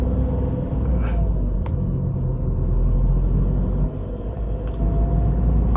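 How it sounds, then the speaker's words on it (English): A Tata Tigor BS6 with a 3-cylinder engine, heard from inside while driving in third gear at about 2000 rpm with the AC off: a steady, loud, low engine rumble that holds evenly throughout. "Let's move the car and see how it sounds."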